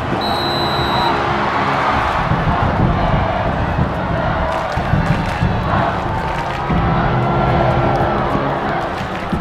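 A full-capacity stadium crowd roars continuously in a vast open arena in a Korean action film, a dense wash of cheering and shouting voices with no pauses.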